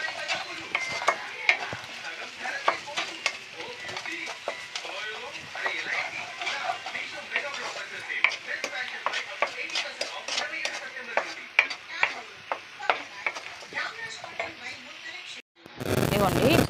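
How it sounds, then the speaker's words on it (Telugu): Fried fish tossed with chili powder in a pan for fish pulusu, a soft sizzle under frequent clinking scrapes of a spatula against the pan, close and continuous, ending with a louder rush. "కారం వేసి బాగా కలపాలి."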